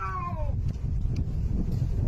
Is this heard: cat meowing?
yes